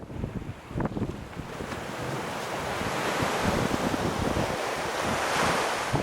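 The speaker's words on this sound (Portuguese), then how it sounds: "Lüderitz é um lugar ventoso" Strong wind buffets the microphone with rumbling gusts while ocean waves wash in steadily at the windswept coastal town of Lüderitz, Namibia, a broad continuous roar with no voices.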